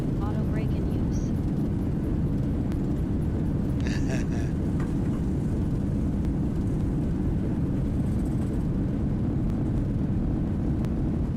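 Airliner landing in a flight simulator game with speed brakes up and reverse thrust engaged, a loud continuous engine roar and rumble with a few brief beeps and tones over it.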